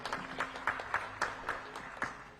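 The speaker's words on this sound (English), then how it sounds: "A round of applause." Audience applause at the closing ceremony of a potato association conference: modest, fairly faint clapping with a loose, almost rhythmic pulse of hand claps, heard at a distance across a hall.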